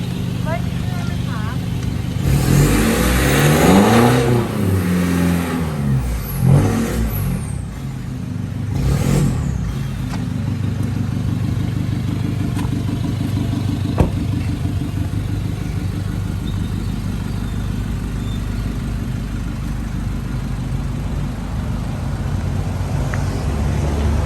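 Isuzu X-Series Speed pickup engine revving through an aftermarket exhaust tip with a focus insert, a loud steady low rumble with a couple of rising revs early on, heard close and continuous.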